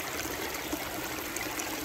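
Water trickling steadily over a weir of small river rocks at a backyard waterfall, a close, continuous, even splashing wash with no other sounds.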